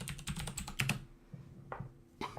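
Keys on a computer keyboard clatter in a quick, close run of taps, then pause and resume with a few isolated keystrokes in a quiet room.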